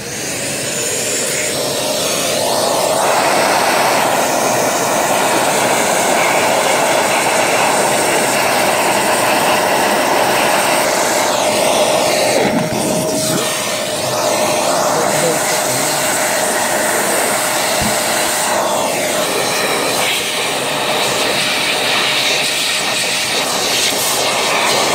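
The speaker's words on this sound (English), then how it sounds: "So, getting a paintbrush and a Hoover." A Hoover vacuum cleaner cleans the fan of a Brinsea Maxi II egg incubator with the help of a paintbrush, giving a loud, close, steady whine and roar with only slight shifts in tone.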